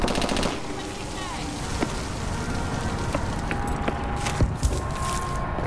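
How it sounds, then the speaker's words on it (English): Gunfire in Call of Duty: Advanced Warfare Search & Destroy gameplay, with sharp close shots and bursts popping over a steady wash of game ambience and effects throughout. "It's a three-round burst"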